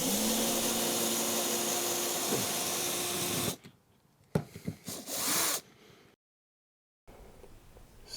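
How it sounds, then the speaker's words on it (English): A screw is driven out of wood with a power tool, giving a steady whirring drone that stops abruptly, followed by short scraping and handling noises and a brief silence. "Let's unscrew."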